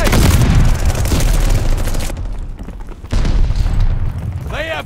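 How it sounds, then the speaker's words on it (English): A grenade blast in the first-person shooter Call of Duty: Vanguard, on the Tuscan patrol map: a loud, dense booming burst with scattered gunfire, a short lull, then another rumbling blast followed by lighter pops, with voices around it. "They got eyes on incoming grenade."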